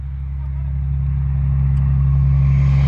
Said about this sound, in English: Listen to those Jake brakes.